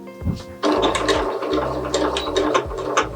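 A sewing machine stitches fabric in quick mechanical whirring runs, close and loud, with short pauses and shifts in speed between bursts.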